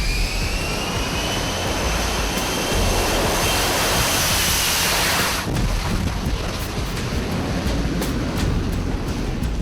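F-35 fighter jets roar overhead, a loud, continuous broadband jet thunder mixed with wind buffeting, swelling and then easing slightly as the aircraft pass.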